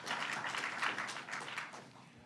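An audience at an executive order signing ceremony gives a round of applause, a continuous crowd clapping that holds steady and then begins to taper off, heard at moderate distance with no talk.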